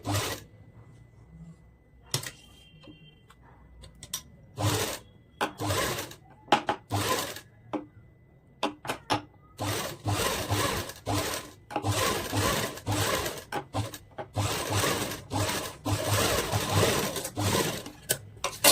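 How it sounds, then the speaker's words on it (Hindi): A sewing machine stitches a lehenga blouse in stop-start runs, with short bursts early on and longer continuous stretches later. It plays close and fairly loud with no talking. "मैंने इधर से स्टिचिंग लगा लिया।"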